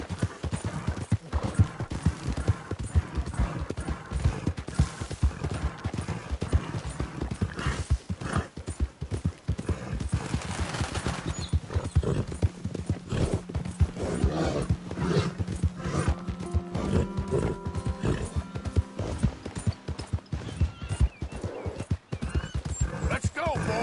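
Horse hooves gallop in a steady, rapid clip-clop through a stagecoach robbery scene in a video game, with music, a whinny and a voice heard over the running hoofbeats.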